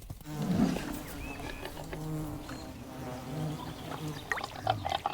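Bees buzzing as they take in water at a hog wallow in a forest in July; soft, intermittent buzzing drones passing close and then away against a quiet outdoor background.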